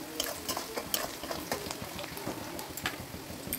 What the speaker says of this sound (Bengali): লাল লাল করে কোচানো পেঁয়াজগুলো আমি ভালো করে ভেজে নেব